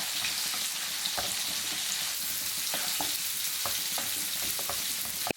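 Potatoes and cauliflower with salt are mixed in a hot pan, a soft steady frying hiss broken by occasional light taps and scrapes of the spoon, close and without speech.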